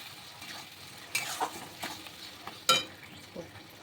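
A paste of onion, ginger, garlic and cashew is sautéed for Bengali mutton kosha. Soft scraping stirs and a couple of sharper utensil taps sit over a faint, low sizzle.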